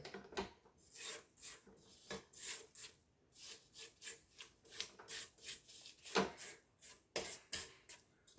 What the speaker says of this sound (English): Now I'm going to scrape the sides down a little bit.